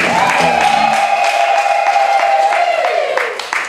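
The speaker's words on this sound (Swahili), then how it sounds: "Vigeregere na makofi kwake." A sustained high-pitched ululation carries over continuous clapping and crowd noise at a church service, loud and close, tapering near the end.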